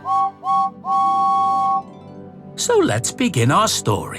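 Steam engine whistle of James, the red number 5 engine, sounding three times: two short toots then one long held blast, clear and close, followed by a narrator's voice.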